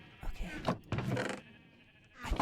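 Sheep in a farming video game bleat softly, a couple of short wavering calls at low level, with a quiet voice nearby.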